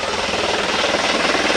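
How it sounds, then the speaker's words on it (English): A hospital helicopter descending onto a high school football field during a game, a loud, steady, thudding rotor roar filling the whole moment, near and continuous. "just a hospital helicopter coming down."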